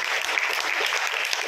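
Brisk, dense applause from a crowd at a South Indian cultural association event attended by a mayor, many hands clapping close and steady for a moment.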